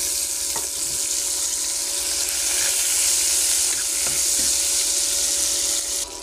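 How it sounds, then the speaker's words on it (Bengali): Cumin, dried chili, ginger and tomato frying in hot oil in a wok, a loud steady hiss and crackle with a few stirring taps. "ফোড়ন হিসেবে জিরে, শুকনো লঙ্কা, আদা আর টমেটো দিয়ে দিলাম।"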